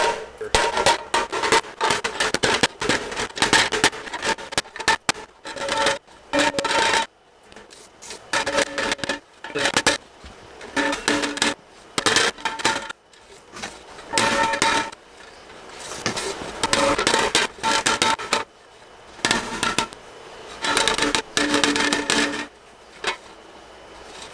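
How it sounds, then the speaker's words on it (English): Dented plastic fairing from a Honda CBR1000RR being beaten out over a curved PVC pipe, with repeated close rubbing, knocking and flexing plastic noises in uneven bursts, no talking. "I'm going to slide this on this PVC and try to beat them out with this curvature"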